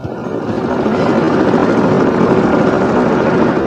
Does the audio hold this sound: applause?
no